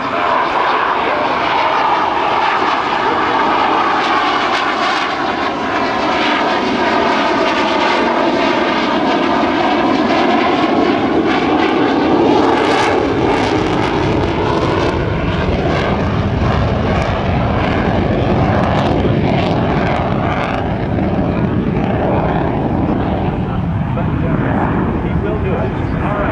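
An F/A-18C Hornet jet fighter flying a demonstration at the 2007 Dayton airshow roars loudly and continuously, its engine tone sweeping and shifting as it passes, with someone talking over it throughout.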